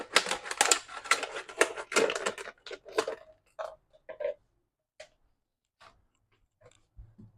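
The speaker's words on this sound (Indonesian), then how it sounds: "Aku gunting dulu." Scissors snipping through a plant stem on a balcony during repotting, a quick run of crisp clustered cuts at first, then sparse isolated snips and small handling clicks in near silence.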